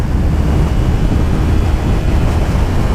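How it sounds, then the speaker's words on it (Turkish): Strong, steady wind roaring and buffeting against the microphone while riding a motorcycle, loud and continuous with no voices. "İnanılmaz sert bir rüzgar var."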